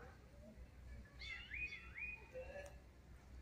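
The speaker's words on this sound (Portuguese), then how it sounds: "É o cancão e a sabiá." A plush-crested jay (cancão) and a sabiá thrush call outdoors, giving a few clear, rising whistled notes at moderate distance, faint and set against a quiet background.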